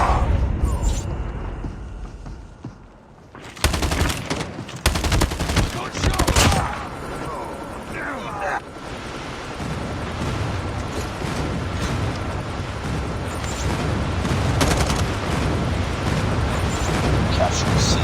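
Rapid bursts of gunfire and explosions crackle through a Call of Duty-style multiplayer match, with dense, loud volleys and heavy impacts layered over game noise and a voice speaking.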